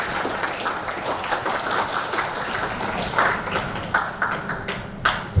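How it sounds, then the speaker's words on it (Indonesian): Applause rising from the audience at a palm oil mill technology conference, a steady broad patter of many hands with a few sharper claps standing out near the end, moderately loud and sustained. "Aplaus yang paling meriah."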